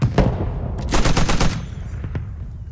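A heavy machine gun rattles off in Squad, with a short burst near the start and then a dense, loud volley of rapid shots from about one to one and a half seconds, followed by a few scattered single reports as it fades.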